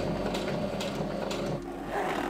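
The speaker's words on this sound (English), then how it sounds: "I can stitch the panels together." Sewing machine running steadily as it stitches fabric tent panels held with basting tape for a camper build, a continuous close mechanical whir with small speed changes.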